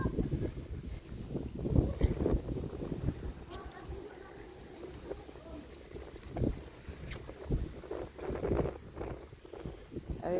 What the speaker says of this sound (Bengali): প্রচণ্ড বাতাস, দেখতেই পাচ্ছেন নদীর অবস্থা। বাতাসের কারণে নদীর ছোট ছোট ঢেউগুলো আছড়ে পড়ছে।